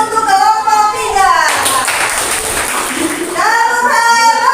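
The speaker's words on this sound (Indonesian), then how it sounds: "Tepuk tangan untuk kelompok 3." Schoolchildren in a classroom clap together for a student group, a burst of mixed clapping lasting under two seconds, framed on both sides by loud children's chanting voices.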